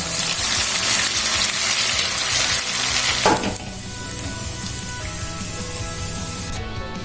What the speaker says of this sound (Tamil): இப்போ இந்த இட்லியை நம்ம எண்ணெயில் பொரித்து எடுத்துக்கலாம்.